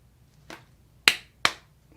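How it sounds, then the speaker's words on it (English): Hands clap three times in a quiet room: sharp, crisp, isolated smacks spaced irregularly. The first is softer and the last two are louder and close together. "if you know it, then clap your hands"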